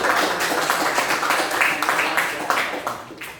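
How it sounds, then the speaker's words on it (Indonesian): Applause from a school classroom in a lesson on computational thinking, a steady patter of many hands clapping for a few seconds at moderate loudness, with voices mixed in and the clapping tapering off near the end. "tepuk tangan untuk Pak"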